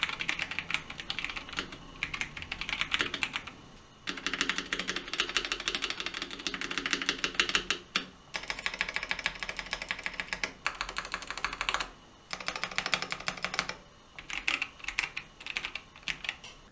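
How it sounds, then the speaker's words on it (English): Rapid, continuous clacking of keys on a mechanical keyboard with Box Royal switches and GMK keycaps, close and crisp, in bursts separated by a few brief pauses. "So here's me doing a quick typing test with Box Royals and GMK9s."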